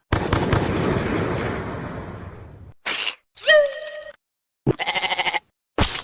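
A single wavering goat bleat, used as a comic sound effect, sounds after a long crackling firework blast and is followed by short buzzy bursts.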